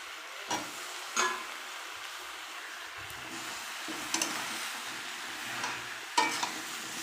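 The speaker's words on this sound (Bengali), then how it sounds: "দেখুন আমার এবার আমি একটু একটু করে সব সবজিগুলো দিয়ে দিচ্ছি।" Vegetables go into a pan for an oil-free Bengali fish curry and are stirred, giving a soft steady sizzle with a few sharp scrapes and taps of a spoon, quiet and close, no voices.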